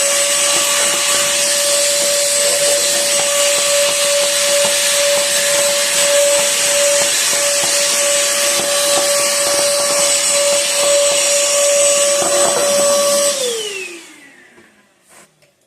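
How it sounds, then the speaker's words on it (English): A small, cheap vacuum cleaner runs close and loud in a welding workshop with a steady high whine, then switches off near the end and its pitch slides down as the motor winds down. "little cheap vacuum"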